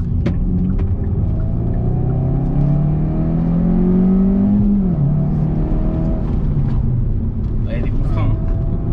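A Hyundai i20 N (2022) engine pulls hard in third gear on a racing circuit, its pitch rising steadily then dropping at a gear change, with talk over the engine throughout.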